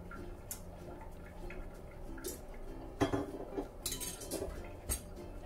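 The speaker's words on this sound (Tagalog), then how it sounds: "so tatakpan ko muna po ulit" A lid goes onto a cooking pot of simmering beef, with metallic clanks and clinks of cookware, a sharp louder knock near the middle, and faint liquid bubbling underneath.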